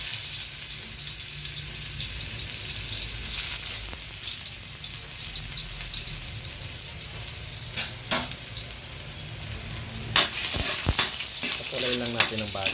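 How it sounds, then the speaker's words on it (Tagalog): Garlic sautéing in a pan for chicken sinampalukan, a steady close sizzle and frying hiss with occasional stirring clatter and scraping toward the end, no talk. "Una, gigisa po natin ang ating sibuyas, bawang, luya. Unahin natin ang bawang."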